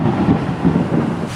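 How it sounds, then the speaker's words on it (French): A thunderstorm in the Brazilian Amazon, heard from inside a van, brings a loud, deep rolling rumble of thunder that swells and fades in waves over steady rain. "Le tonnerre, ça gueule tellement fort."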